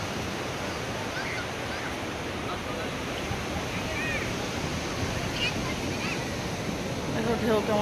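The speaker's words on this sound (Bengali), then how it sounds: "দেখো ঢেউ কেমন আসছে দেখো" Sea waves at Digha break against a rocky, boulder-lined shore with a continuous roaring wash that swells slightly toward the end. Faint voices sit beneath the surf.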